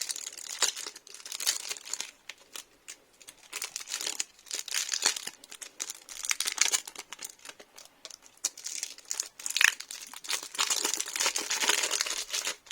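Crinkling plastic wrap is pulled off a 100-card Magic: The Gathering Zendikar Rising Commander precon deck, a steady close rustle with sharper crackling bursts for about thirteen seconds and no talking.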